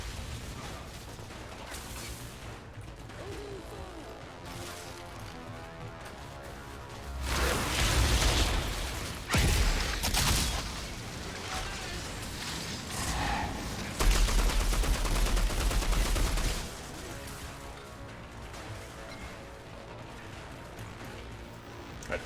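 Dense gunfire from the video game Outriders, with sustained bursts of rapid automatic shots, heavier blasts in the middle stretch and loud overlapping volleys over a constant background roar, no talking.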